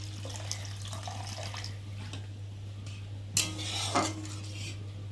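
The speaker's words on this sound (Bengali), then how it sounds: "আর এখন আমি পরিমাণ মতো জল দিয়ে দেবো।" Water is poured into a pan of mustard-based bhola fish curry, a soft running splash with light clinks of a metal utensil against the pan and a sharper clatter partway through.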